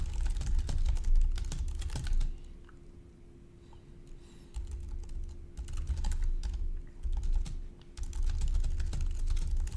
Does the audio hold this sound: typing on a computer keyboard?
yes